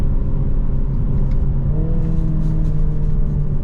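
BMW Z4 2.0 sDrive convertible, 2022, accelerating from inside, a steady loud engine drone whose pitch climbs smoothly over a few seconds under road rumble, with no talk.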